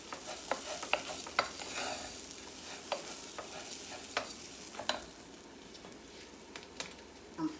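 Spoon stirring shrimp and rice with basil and bay leaf in a pan: soft irregular scrapes and taps over a faint steady sizzle, close and fairly quiet, with no talking.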